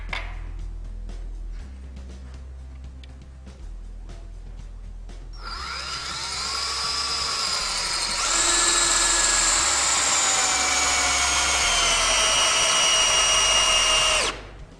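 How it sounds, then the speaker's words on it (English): A power driver whines for several seconds, rising in pitch and straining steadily as it bores a 14-inch GRK RSS structural screw into a block of treated wood without pre-drilling. A quiet room precedes it. "I'm going to run this 14-inch screw into this block of treated wood here, no pre-drilling"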